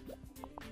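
Small bubbles pop in the game Game Dev Tycoon, two quick soft liquid plops close together over light background game sound.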